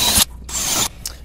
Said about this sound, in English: I'm going to give it a little pre-drill just to make sure it's easy to start.